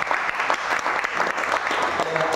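An audience bursts into dense, continuous applause after a one-handed, blindfolded Rubik's cube solve performed live, with a voice speaking faintly beneath the clapping.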